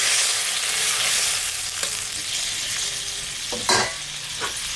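Water poured into a pan of beans with ginger, cumin and chili paste sets off a loud, steady sizzle, with a couple of sharp clinks of a utensil against the pan near the end.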